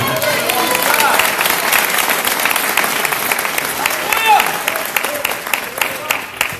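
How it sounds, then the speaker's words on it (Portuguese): Church congregation applauding during a testimony service, sustained dense clapping filling the room, with speaking voices audible through the applause. "glorifica ao Senhor e aplaude a Ele."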